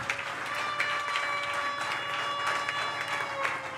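A church congregation applauds, with steady, dense clapping from many hands that fills the room for a few seconds, with some faint voices underneath.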